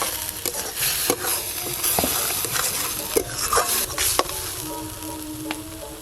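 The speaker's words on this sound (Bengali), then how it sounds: "এই যে এইভাবে নাড়তে নাড়তে জলটা শুকিয়ে যাবে" Bengali lote fish curry with chilli and cumin powder being stirred in a pan, a spoon scraping and knocking in an irregular rhythm over a steady sizzle, close and clear.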